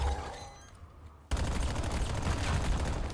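Rapid bursts of gunfire in a Call of Duty match, starting suddenly after a brief lull and continuing as dense, loud shooting to the end.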